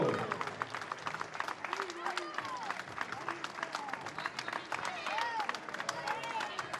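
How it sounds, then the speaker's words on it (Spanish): Applause and clapping from a crowd at a football trophy presentation in Ribadeo after a Real Oviedo–Lugo match, steady dense patter for the full stretch with shouts and crowd voices over it. "¡Un aplauso!"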